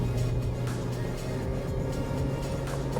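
A 2015 Toyota Axio hybrid car drives and speeds up, a steady low engine and road rumble holding throughout with a constant hum, no talk.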